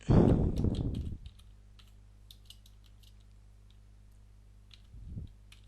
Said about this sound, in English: I'm just going to type in here our website